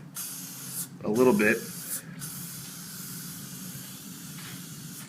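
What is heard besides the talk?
Valspar spray paint can spraying onto foam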